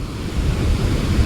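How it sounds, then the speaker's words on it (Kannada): Strong wind blows outdoors at a birthday celebration, a steady, loud rumbling buffet against the microphone with no voices. "ಜಗಿ ಗಾಳಿ ಐತ್ ಬಿಡೆ."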